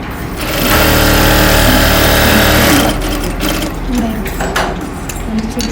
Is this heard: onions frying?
no